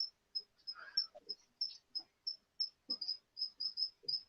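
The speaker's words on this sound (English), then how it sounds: "I am going to smash that fucking cricket in a minute" Cricket chirping indoors in steady, evenly spaced high-pitched pulses, close and fairly quiet, with faint scattered background noises between chirps.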